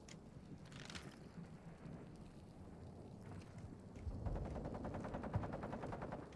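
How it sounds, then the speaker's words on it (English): Faint, distant gunfire in Call of Duty Warzone on Ashika Island: scattered shots early on, then a rapid burst of automatic fire that rolls on to the end. "I hear shots underground"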